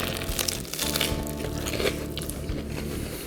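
Close, fairly quiet crunching bites into a grilled cheese sandwich filled with BBQ pulled pork, a few crisp crackles of toasted bread followed by softer chewing, with no talking over it.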